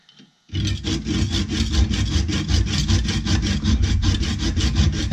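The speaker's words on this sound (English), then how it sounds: "And use my hacksaw." A hacksaw cuts through a Thule roof rack cross bar for a VW Westfalia bus, with loud, steady back-and-forth strokes in quick, even rhythm, close up and alone after a short quiet start.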